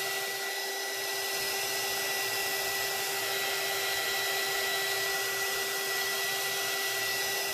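An embossing heat gun blows on alcohol ink with a steady, loud whirring hiss and a faint tonal whine, unbroken from start to finish and heard close up with no talking.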